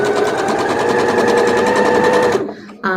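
A sewing machine stitches a quilt block in a loud, steady, fast run of needle strokes up close, then stops abruptly near the end, leaving a brief quiet gap before a short new sound.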